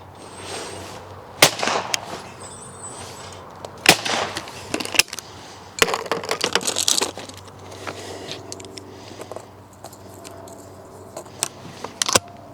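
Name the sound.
shotgun shots, 20 bore and 12 bore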